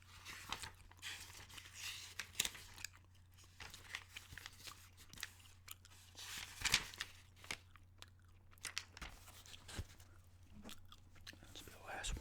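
Quiet, close gum chewing with soft wet smacks and clicks, repeated irregularly against a low steady hum, with soft whispered talk in places.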